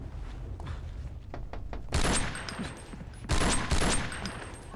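Gunfire from shooting enemies in a Half-Life 2 mod: sharp, loud bursts of rapid shots in two clusters, separated by quieter thuds and game ambience.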